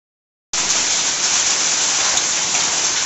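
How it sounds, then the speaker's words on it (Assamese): Small hailstones falling outside during a wedding-day hailstorm, a dense, loud and even patter of ice that starts abruptly and continues without pause. "বাহিৰত বৰফ শিল বৰষুণ দেখুৱাই আহিলোঁগৈ"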